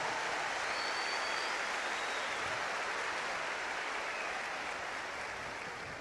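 Applause from a congregation during a Catholic sermon at a large Brazilian gathering, a dense, even wash of distant clapping that holds steady and fades slightly toward the end.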